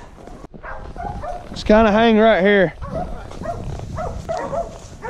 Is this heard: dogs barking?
yes